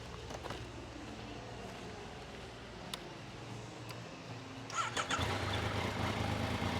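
A Yamaha MT-09 motorcycle with 17,000 km on it runs quietly at a steady, low idle, with the engine growing slightly louder toward the end.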